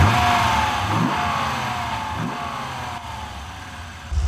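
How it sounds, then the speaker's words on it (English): A Dodge Viper's 8-litre V10 revs loudly nearby, climbing through sweeping rises in pitch with brief dips between gear changes and a snarling exhaust note, with no voices over it. "This monstrous 8-litre V10 pushes no fewer than 450 horsepower out to the back wheels."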